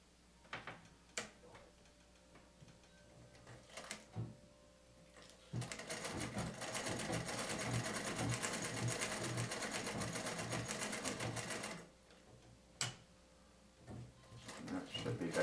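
A vintage Bel Air sewing machine stitches a straight seam in one steady, rapid mechanical run of several seconds, framed by scattered clicks and handling noises, with a voice nearby.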